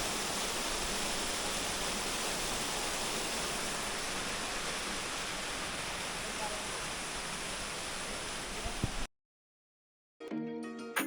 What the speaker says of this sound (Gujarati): આ સરસ્વતી નદીનો પ્રવાહ અહીંથી આગળ જાય છે